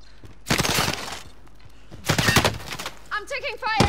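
Gunfire in Call of Duty: Modern Warfare: loud bursts of rapid automatic fire in two long volleys, with a voice calling out and other in-game sounds near the end.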